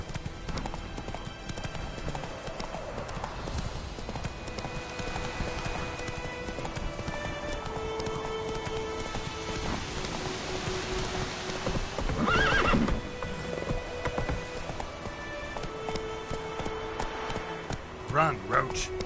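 Roach the horse galloping in The Witcher 3, with steady rapid hoofbeats running throughout and a whinny partway, under game music and a person talking.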